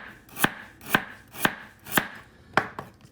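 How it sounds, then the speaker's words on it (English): Knife chopping through galangal on a board, five crisp evenly spaced cuts about half a second apart, close and clear with nothing else around. "We're just going to slice out the tough outer layer"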